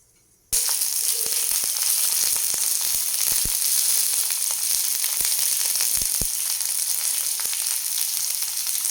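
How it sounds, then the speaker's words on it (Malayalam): Mustard seeds, ginger and garlic fry in hot coconut oil for a mushroom masala, a loud, dense, continuous sizzle that starts abruptly, with scattered sharp pops and crackles from the seeds, close and without talk. "വെളിച്ചെണ്ണ ഒഴിച്ചിട്ടുണ്ട്. കടുകിടാം. കടുക് പൊട്ടുമ്പോൾ നമുക്ക് ഇഞ്ചി, വെളുത്തുള്ളി ഇടാം."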